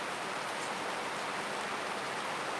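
Steady rain falls outdoors in Costa Rica during a live question-and-answer session, a dense, even hiss of drops on surfaces that continues unbroken with no voices.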